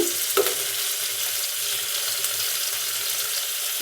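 Paneer sizzles in oil in a kadai, a steady, close hiss and crackle with a few brief spits near the start, continuing evenly with no talking.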